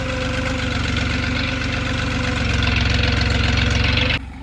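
A tractor nicknamed Dragon idles steadily and loudly, its low engine throb continuous and growing slightly louder before cutting off sharply near the end.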